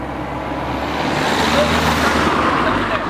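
A car passing on a road, a broad steady whoosh of engine and tire noise that swells in the middle and lingers, heard alone without talk.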